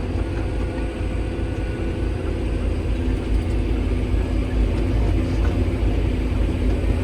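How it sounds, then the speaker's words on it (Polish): A farm tractor's engine labors steadily uphill at around 12 km/h, a continuous loud low rumble with a dense mechanical drone that holds unbroken for several seconds, with no voices. "tak sobie ciągnik w miarę jakoś tam radzi 12 na godzinę zaczynamy tu pod górkę"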